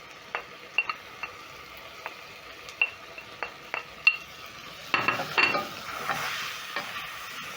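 Tomatoes going into a hot pan with a dash of dark soy sauce on the stove and being stirred. Soft sizzling runs under a series of sharp spatula-on-pan clicks, and a brighter burst of frying follows as they hit the heat.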